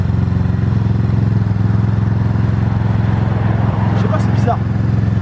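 A motocross dirt bike engine runs steadily and loudly close by, a constant buzzing drone with a brief clatter near the end.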